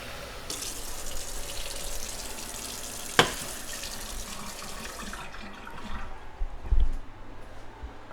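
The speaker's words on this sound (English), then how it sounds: "Oh, you want to hear the water?" Kitchen tap running water, a steady close hiss and splash that stops partway through, with a sharp clink early on and a dull knock near the end.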